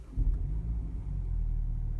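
A BMW X-Drive 20i four-cylinder engine on the road, giving a low steady rumble with a brief swell near the start before settling into an even drone. No one talks.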